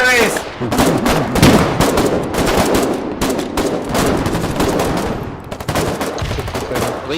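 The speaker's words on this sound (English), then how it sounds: "We got a couple good shots off, I think." Rapid bursts of automatic gunfire from a video game crackle almost continuously, dense and loud, with short volleys overlapping throughout.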